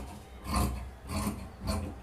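A hand saw cuts along a marked line, three rasping strokes at a steady rhythm, close by and fairly quiet.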